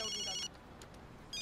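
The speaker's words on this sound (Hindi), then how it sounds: "ये अवंतिका का फोन है" A mobile phone ringtone sounding indoors, two short bursts of bright electronic tones separated by a brief pause, fairly quiet and heard alone.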